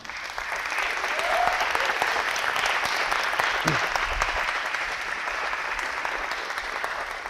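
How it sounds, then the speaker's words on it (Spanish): Loud, sustained applause from an audience at a planetarium talk fills the space, a dense patter of many hands clapping steadily without a break. "Un fuerte aplauso"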